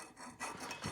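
Valve seats being lapped with grinding paste in a golf cart cylinder head make a close, steady gritty rubbing and rasping, swelling slightly in strokes over a short second with no talk.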